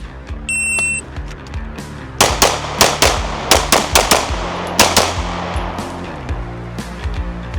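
Rapid gunshots ring out against steel target turrets on public land, a burst of sharp cracks followed by an uneven string of loud shots, each with a metallic ping and short echo, close and dominant.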